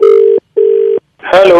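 Two steady telephone tone beeps sound on a call during a radio prank call, each lasting under half a second with a short gap between them. A voice then starts speaking close up.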